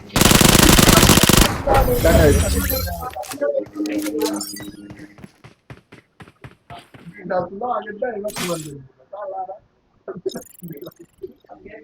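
Loud, dense burst of Uzi fire in the Free Fire mobile shooter for about three seconds, followed by excited, rapid talking with scattered softer clicks and game effects.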